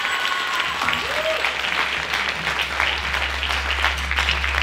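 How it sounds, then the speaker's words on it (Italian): Audience applause at a Christmas-eve music, dance and theatre show, steady dense clapping filling the room throughout, with a faint crowd murmur beneath. "E ora invitiamo a guadagnare il palco qui con noi. Un applauso alla signora Rita Minchiotti!"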